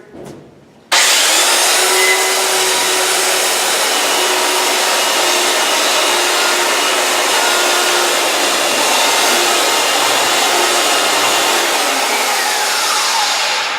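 A belt sander runs on wood with the grain, starting abruptly after a brief quiet moment and holding a loud, steady whirring hiss for the rest of the clip with no talk.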